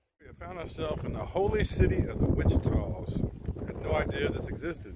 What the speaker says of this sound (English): It is very windy today, so pardon the wind.